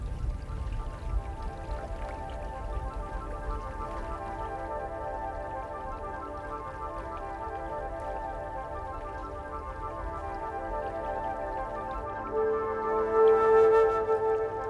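Steady flowing water overflows from one terraced field into the next, pouring and trickling continuously, with light rain pattering and a low hum in the background.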